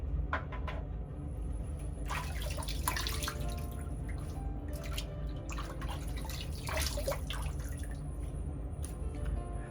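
Tap water runs steadily into a sink while shaving product is rinsed off a face, with irregular splashes and hand scoops breaking the close, continuous stream.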